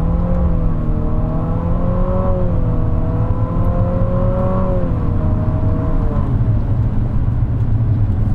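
A 2020 Infiniti QX50 in sport mode accelerates, its engine tone rising steadily in pitch inside the cabin, then easing into a sustained drone with road noise.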